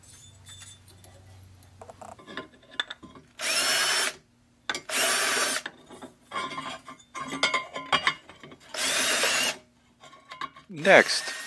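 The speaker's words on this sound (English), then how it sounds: "All I have to do is drill a couple of holes for M6 bolts." A power drill whines in several bursts of a second or so each, drilling holes for M6 bolts in an aluminum bracket, with quiet gaps of handling and clinks between, close up.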